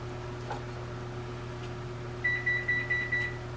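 A kitchen oven signals preheating with five evenly spaced, clear electronic beeps toward the end, over a steady low appliance hum and quiet room tone, with no talking.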